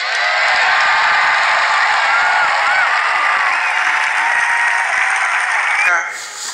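A large crowd at a political rally applauds and cheers in a loud, sustained roar of clapping and shouting that holds steady, then cuts off abruptly near the end.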